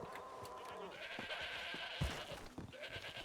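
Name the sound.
goats bleating on a farm in a roleplay video game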